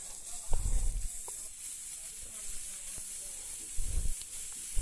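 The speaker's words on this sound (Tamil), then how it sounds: "எண்ணெய் கொஞ்சம் சேர்த்து ஊற்றி நல்லா வதக்கிடுவோங்க" Brinjal frying in oil on a dosa griddle hisses softly and steadily, broken by a few brief louder bursts of sizzle and scraping near the start and again toward the end.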